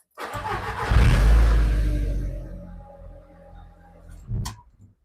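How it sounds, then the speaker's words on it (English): An Audi TT engine cranks and catches, a loud low burst that settles into a steady idle, with a short blip of revs near the end; nobody speaks. "I'm just going to turn the engine over,"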